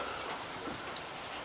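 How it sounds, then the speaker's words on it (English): Steady rain falls in a dense, even hiss of drops on surfaces, constant and close throughout with no other sounds standing out. "so we're getting a lot of rain"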